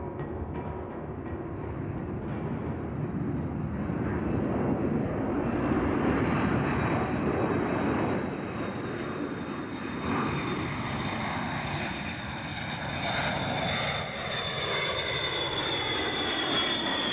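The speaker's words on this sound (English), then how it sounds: "It is the supreme embodiment of air power. The strategic bomber." Engines of a strategic bomber aircraft in flight, a steady, loud, droning roar that swells slightly and holds without break, heard alone with no voices.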